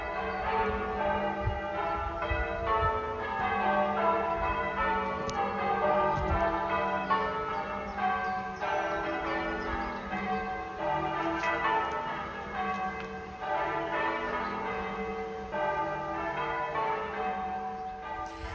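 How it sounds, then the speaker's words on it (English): Church bells of St John's, Tisbury, ring for D-Day in a continuous, overlapping peal of several tones, steady and resonant for a long stretch with no talking. "let's have more of those D-Day bells from St John's, Tisbury"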